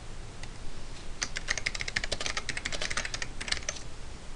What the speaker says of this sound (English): love those typing skills